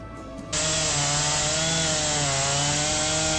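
A chainsaw cutting a long log into sections before it goes into a wood splitter: the engine revs up abruptly into a loud, sustained buzzing whine with a steady rasping cut, close up.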